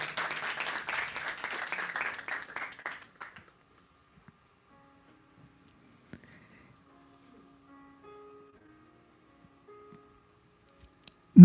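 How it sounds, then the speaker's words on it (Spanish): A church congregation claps together briefly, moderately loud, for about three seconds before the applause stops abruptly and the room falls nearly silent, with only faint small noises afterward. "Dale un fuerte aplauso a Él."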